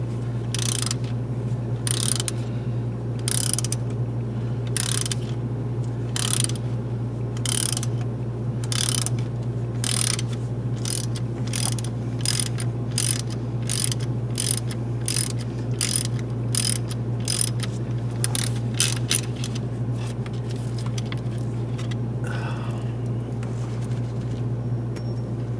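A ratchet clicking as it turns a 13 mm bolt on the belt tensioner of a Cummins 8.3 engine in a BlueBird RV; rapid bursts of close, sharp ratcheting clicks with short pauses between strokes.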